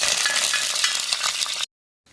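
Pandan leaves, cardamom, cloves, star anise and cinnamon fry in hot oil, a bright, steady crackling sizzle close up with faint stirring, cutting off abruptly to silence near the end.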